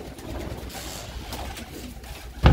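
Pigeons being weaned in a loft coo softly in low, murmuring calls through the whole stretch, close by, with a short louder thump at the end and no talking.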